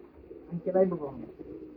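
A soft, low pigeon coo rises briefly in the middle, a throaty burbling call close by over faint background noise.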